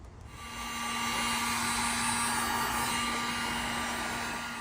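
Heat gun blowing on a shrink sleeve over a heavy-gauge car electrical upgrade wire: a steady, loud, whooshing blower tone that starts up and holds level, close by.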